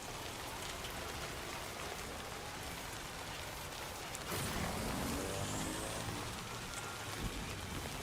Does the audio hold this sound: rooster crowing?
no